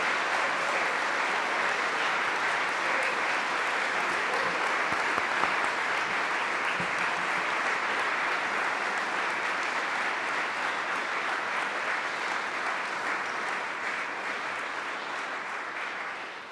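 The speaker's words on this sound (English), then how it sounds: "Let's give them all a nice round of applause." Sustained, dense applause from a seated audience at the 2017 Order of Manitoba investiture ceremony honoring award recipients, steady and loud throughout, gently fading at the close.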